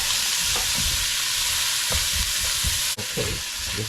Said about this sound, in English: Now we drop our peas and carrots.